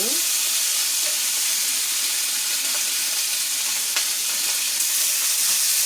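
Meat sears in a hot pan with a continuous, loud, close sizzle and bright hiss, a few faint clicks and scrapes from handling in the pan, no voices.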